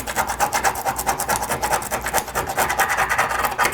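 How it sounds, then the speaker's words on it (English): A scraper rasps rhythmically over tile, stripping old caulk from a tub shower surround, with quick close repeated scratching strokes at a steady pace. "a 501 or a scraper is doing a better job"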